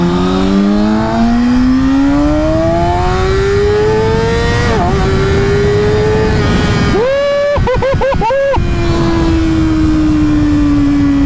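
A 2019 Kawasaki Ninja ZX-6R 600cc sport bike engine revs loudly and close, its pitch climbing steadily through the gears, with a brief throttle blip midway and a burst of sharp stuttering revs before it settles into a sustained high whine.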